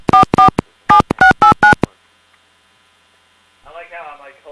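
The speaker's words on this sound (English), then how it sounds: "Alright, now we're calling someone else." Touch-tone keypad of an old 1980s telephone dialed in two quick bursts of loud, evenly spaced beeps, followed by a pause and then a faint ringback tone on the line.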